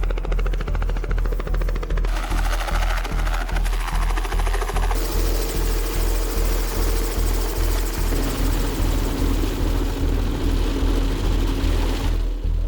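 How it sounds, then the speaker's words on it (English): A helicopter picking up a film crew along a trail-running route flies close and loud, its rotor chopping in a steady, even pulse throughout with a dense engine roar beneath and no talking. "being picked up again by the chopper"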